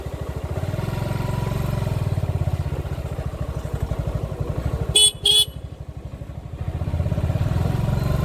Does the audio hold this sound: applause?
no